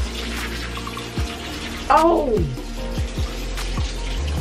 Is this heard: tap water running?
yes